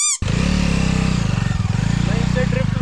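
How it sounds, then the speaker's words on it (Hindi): An ATV bike engine bursts into a loud, close, steady throbbing roar on sandy off-road ground, running continuously with a fast pulsing rhythm, while someone talks over it. "तो गाइस अब चलाते हैं बाइक को"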